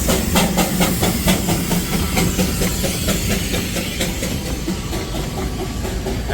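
A Darjeeling toy train steam engine drawing close, with loud, rhythmic chuffs of steam over a heavy rumble and a constant hiss, steady and near.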